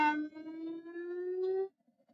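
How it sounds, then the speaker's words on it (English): A single ambulance siren wail sounds in Galle, Sri Lanka, a steady tone slowly rising in pitch before cutting off abruptly, followed by near silence. "Ambulances screeched through Galle"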